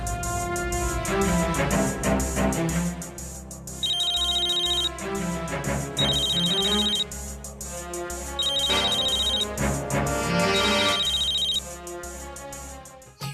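Electronic telephone ringtone sounding in four repeated bursts over a backing of dramatic music, with no talking during the ringing.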